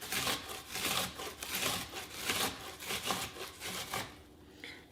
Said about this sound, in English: We're also going to use the large side of the box grater.